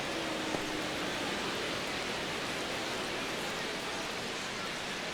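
A spring training baseball crowd in the ninth inning of a Diamondbacks vs Dodgers game makes a steady, even wash of distant murmur that stays constant throughout.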